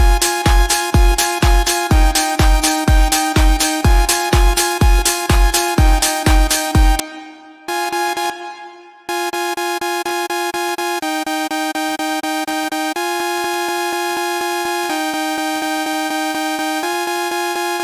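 Synthesizer playing an initialized patch: a fast run of short, evenly spaced plucked notes, a brief gap, then a string of long sustained tones that change pitch every couple of seconds, clean and up close.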